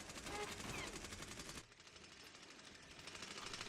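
Rapid automatic gunfire in the multiplayer shooter Medal of Honor Warfighter, a dense loud rattle of shots for the first second and a half, then continuing more softly amid game ambience.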